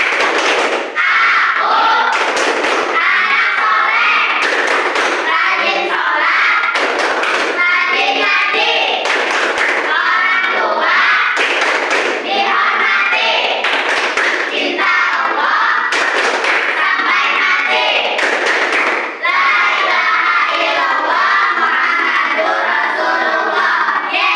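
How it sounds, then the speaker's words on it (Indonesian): A school class performs the Tepuk Anak Soleh clapping chant, bursts of many hands clapping in rhythmic patterns alternating with children chanting together in unison, loud and close throughout a classroom. "Tepuk anak soleh."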